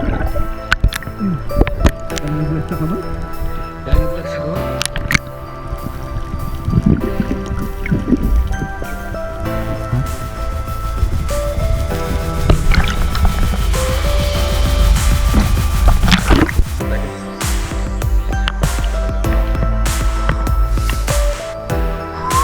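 Underwater during a free dive for shells in the sea off Mindoro, Philippines: continuous muffled gurgling, bubbling and sloshing with scattered close thumps and clicks.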